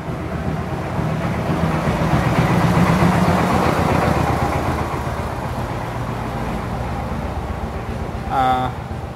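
A 7.5 hp engine coupled to a gearbox with two forward gears and one reverse runs with a steady, rumbling drone throughout, while someone talks over it.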